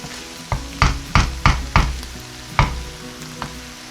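Pork sisig of chopped pig ears sizzling in a hot pan, a steady loud frying hiss broken by a series of sharp stirring scrapes and clanks, close and with no talking.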